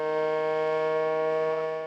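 A Drew County civil defense emergency siren sounds a true warning to find shelter, a steady sustained wailing tone, loud and continuous with no other sounds.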